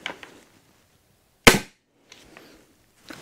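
A single sharp, loud shot rings out from an all-metal Stinger blaster milled from aluminum, with a quick decay, framed by faint handling clicks before and after.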